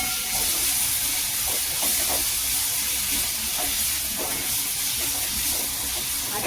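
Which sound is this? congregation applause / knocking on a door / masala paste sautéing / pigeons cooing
masala paste sautéing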